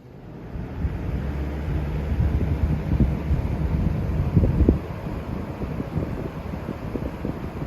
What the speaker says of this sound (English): I'm sure you can hear like the airflow movement through this fan